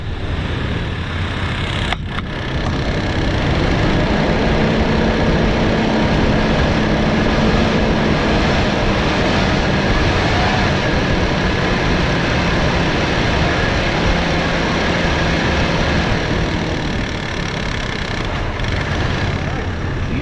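A 1984 Jeep Cherokee Chief XJ with a 2.8L V6, running on very old gas, idles at a steady, continuous rumble. The sound stays close and loud throughout with little change.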